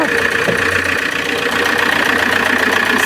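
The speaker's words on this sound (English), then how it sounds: "So noisy, this engine." The diesel engine of an Alfa Romeo 159 1.9 MultiJet runs roughly and loudly up close, a steady rattling, knocking drone that continues without letup.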